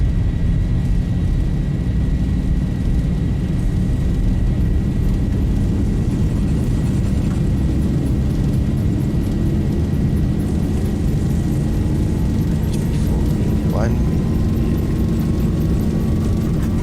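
Boeing 737 thrust reversers roar during a rejected takeoff in a flight simulator game, a steady, loud, low engine rumble lasting throughout with no voices.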